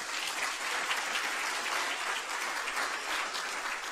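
Audience applause for a keynote speaker at a symposium, a full, even wash of clapping from a large crowd, close and continuous throughout.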